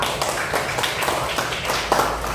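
Classroom of students clapping together for everyone, a dense steady patter of many hands at moderate level throughout, with faint voices mixed in.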